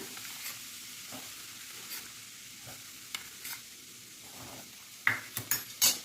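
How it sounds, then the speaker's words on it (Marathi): Fine semolina roasting in hot ghee in a pan gives a quiet steady sizzle, a spoon scraping now and then, and a few louder metallic clinks near the end. "तूप गरम आहे त्यामुळे पटकन असा फ्राय होतो"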